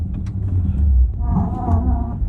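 A VinFast VF8 electric car creeps and rocks with wheel spin, a loud, close low rumble with a rising whine partway through.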